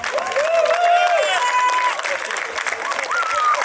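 A crowd at a national football tournament for young beginners applauds, with steady clapping running throughout and high voices and cheers rising over it.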